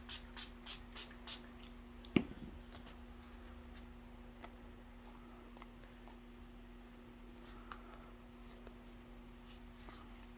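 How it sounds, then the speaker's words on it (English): A spray bottle spritzes water onto a watercolor background: a few quick, faint spritzes in a row, then a sharper click, over a low steady hum in a quiet room. "So spritz it"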